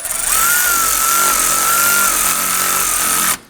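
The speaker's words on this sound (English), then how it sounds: "Let's go ahead and install our screws here for our AC condenser into our radiator" A power tool whines steadily as it drives self-tapping screws through a Nissan Murano AC condenser into the radiator, a close, loud motor tone that holds for about three seconds and then cuts off.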